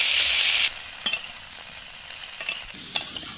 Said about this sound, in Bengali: কপিগুলো ভেজে নেব।